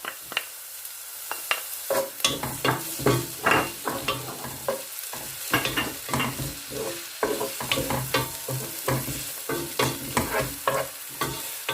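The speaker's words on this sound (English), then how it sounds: "And let them fry for about 1 to 2 minutes." Crushed garlic and ginger frying over medium heat in a pan for a chicken curry, a close, busy crackle with frequent sharp spatter pops and stirring clatter throughout, no voices.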